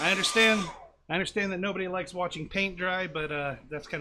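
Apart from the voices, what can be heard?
No everyday noise stands out behind the speech.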